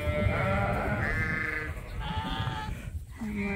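Sheep in a barn on a Canadian farm, with dry ewes nearby and ewes with lambs, bleat in overlapping calls, some loud and near and others fainter in the background, with no speech.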